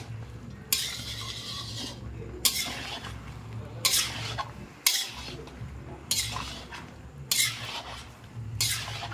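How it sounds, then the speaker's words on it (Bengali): Ingredients are stir-fried in a hot wok, with a spatula scraping and tossing in regular bursts about every second and a half over a low sizzle, close and fairly loud. "আমি এখন 5 থেকে 6 মিনিট ভালো করে নাড়াচাড়া করে নেবো"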